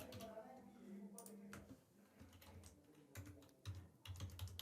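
Rapid clicking on a computer keyboard as test card details are typed into an online checkout form, keystrokes coming in quick bursts with brief pauses over a few seconds, close and fairly quiet.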